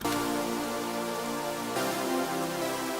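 A clean synth chord stack preset with EQ in FL Studio plays two sustained bright chords, the second changing at mid-clip, loud and alone with no talk.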